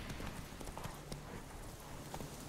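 Roach, the horse in The Witcher 3: Wild Hunt, trots along with rapid, rhythmic hoof clip-clops. The hoofbeats sit under a dense, continuous game soundscape and stay steady across the short stretch.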